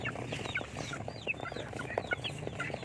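About one-month-old chicks fed Integra 2000 feed cluck and cheep busily at feeding time, a dense chorus of quick, close, faint calls with no talk.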